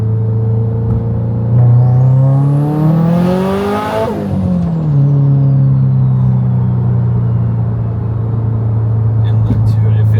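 A Subaru STI fitted with a GTX3582R turbo accelerating hard from 3,500 rpm, its engine note climbing loudly and rising in pitch with a rising turbo whine, then dropping as a steady drone, heard from inside the car.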